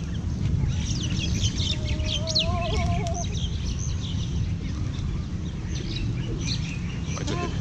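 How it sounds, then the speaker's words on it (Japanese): A flock of pigeons gathered outdoors in Waikiki, Hawaii, with busy chirps and coos scattered over steady loud ambient noise, plus a brief tonal call in the middle. "なんかあっという間に鳩だらけになって"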